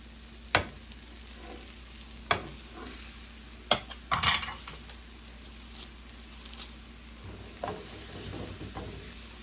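Cabbage sandwiches frying in a pan give a soft, steady sizzle, broken by a few sharp scraping clatters from a spatula. The sounds are quiet and close, with no talking.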